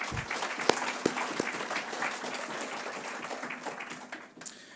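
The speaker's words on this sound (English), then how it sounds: "Let's give them a round of applause real quick." An audience at a college athletics hall of fame ceremony applauds steadily for several seconds, a dense, even patter of many hands in an indoor hall, with a few sharper claps standing out near the start.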